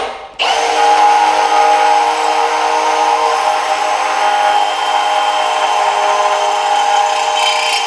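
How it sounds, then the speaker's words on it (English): Holes being drilled in stainless steel, a loud, steady, high-pitched whine from a power drill that starts abruptly and grinds on without a break, close up. "So we'll go ahead and drill these."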